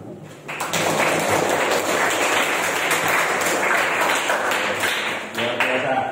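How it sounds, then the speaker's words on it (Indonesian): A classroom of junior high students breaks into sustained applause, dense and loud hand clapping lasting several seconds before tapering off near the end. "Ya, tepuk tangan dulu."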